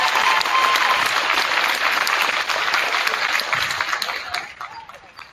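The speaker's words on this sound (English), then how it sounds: "applause for Coach" A gym crowd at a girls basketball game applauds Coach Tim for his 100th career win, loud sustained clapping that fades near the end, with some voices underneath.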